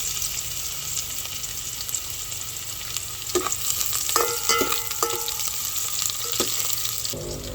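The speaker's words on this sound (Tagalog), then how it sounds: "Nailagay ko na po yung bawang at sibuyas at atin lang pong ginigisa." Garlic and onion sauté in a saucepan for mung bean stew, giving a steady close sizzle and hiss with a few soft stirring scrapes and clicks of the utensil against the pan, no voices.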